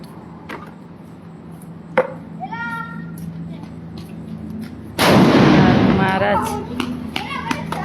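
Diwali firecrackers go off at an ashram, with several sharp single bangs and then a loud, sustained crackling burst. Voices and high whistling fizzes can be heard around the blasts.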